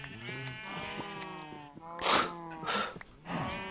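A Minecraft sheep bleats repeatedly while being sheared, with several close, wavering cries in quick succession and faint clicks between them.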